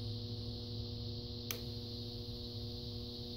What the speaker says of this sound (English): You hear that 60 hertz hum?